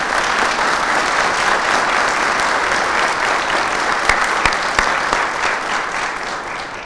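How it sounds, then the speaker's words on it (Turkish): A hall audience at a union event on collective bargaining proposals gives loud, sustained applause, a dense roar of many hands with a few sharp, distinct claps standing out near the end. "kuvvetli bir alkış istiyorum"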